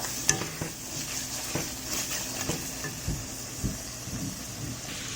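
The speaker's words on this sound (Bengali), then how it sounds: "বাকি মশলাগুলো দিয়ে এভাবে 5 মিনিট কষাবো।" Spices with ginger-garlic paste are stirred and fried in a pan for a dried-shrimp bhuna, giving a steady close sizzle broken by repeated scraping clicks of a spoon against the pan.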